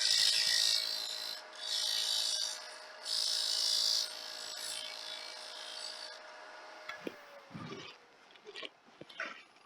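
A turning tool trues the bandsawn face of a wood blank spinning on a lathe, giving three close, rasping scraping passes of about a second each. Quieter clicks and knocks follow as the cutting stops.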